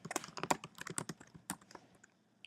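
Fingers type a presentation name on a computer keyboard, giving a quick run of crisp, close key clicks that slows and thins out toward the end.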